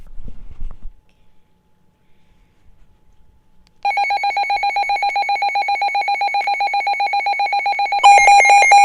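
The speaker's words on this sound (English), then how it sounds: "So, this is how it would sound if there was a warning." A weather radio sounds a flood warning alert: after a faint stretch, a loud steady electronic tone pulses rapidly and evenly for about four seconds, then jumps to a brighter, louder tone at the end.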